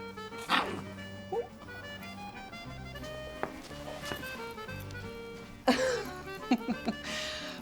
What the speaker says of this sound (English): Mrs. Papadakis, do you know anything about dog breeding? These two just don't seem interested.